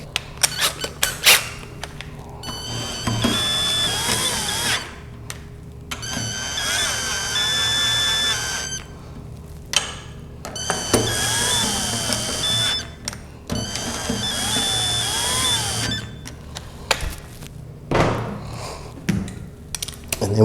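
A power tool runs in four bursts of a few seconds each, with squeaky whirring that rises in pitch, as bolts are tightened down on a Honda transmission during a rebuild. Short pauses and small clicks separate the bursts.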